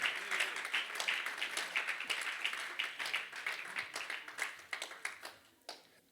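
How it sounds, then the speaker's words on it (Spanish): Sustained applause from a church congregation, dense rapid clapping that holds steady for several seconds before thinning out and fading near the end. "Denles aplauso al Señor, mis hermanos, si gusta,"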